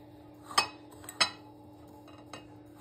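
A spoon clinks against a bowl while small amla gooseberry pickle is mixed, three or four sharp metallic taps spaced apart in a quiet kitchen.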